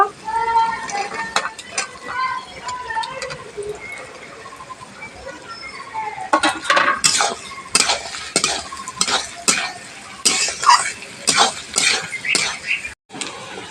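Chopped green chili, carrot and beans stir-fried in a pan, with steady sizzling and repeated scraping and clinking of a spatula against the metal, growing busier and louder partway through.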